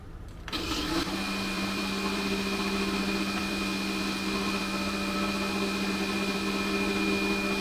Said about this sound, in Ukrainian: Вмикаємо блендер десь на одну хвилину.